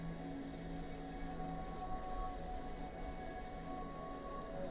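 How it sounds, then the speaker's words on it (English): An airbrush at 25 psi sprays Alclad clear flat top coat onto model kit parts, a continuous close hiss with brief dips where the trigger eases off. "I sprayed these parts with a couple of heavy coats with my airbrush set at 25 psi."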